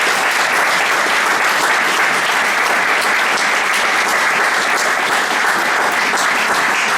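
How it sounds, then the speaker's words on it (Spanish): A lecture audience in Tudela gives speaker Julen Rekondo a loud, dense round of applause that stays steady throughout, with no voices over it. "Vamos a darle un fuerte aplauso."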